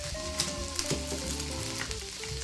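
Flipped burger patties fry in a pan with a lively, crackling sizzle and scattered sharp pops. Steady musical tones play underneath.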